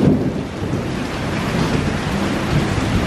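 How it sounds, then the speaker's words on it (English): A tropical storm in Florida near Walt Disney World brings loud, continuous rumbling thunder directly overhead, mixed with heavy rain pouring down throughout. "This is like no thunder I've ever been in."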